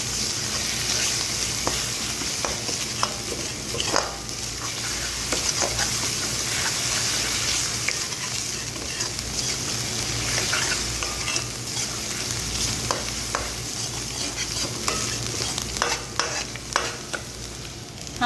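Chopped ginger and garlic sizzle steadily in a hot pan while being stirred, a continuous close frying hiss broken by scraping strokes of the spoon.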